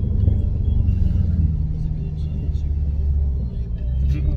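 A 5.7 Hemi V8 from a trail-rated Jeep Cherokee Laredo rumbles at a steady idle, deep and close, with a low throbbing tone throughout.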